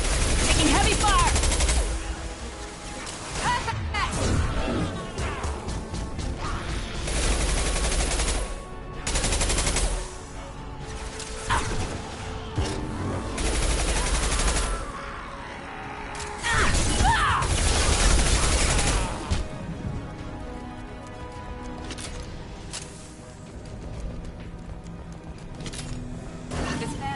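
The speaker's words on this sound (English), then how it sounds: "Taking heavy fire!" Heavy gunfire in the video game Mass Effect 2, loud bursts of automatic fire and booming shots in clusters, pausing briefly between volleys, with mechanical game sounds and occasional voices underneath.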